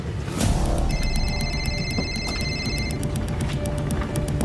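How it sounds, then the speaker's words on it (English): A telephone rings with a fast, repeating electronic trill in regular bursts, steady and moderately loud over a busy, noisy room background. "my phone's ringing"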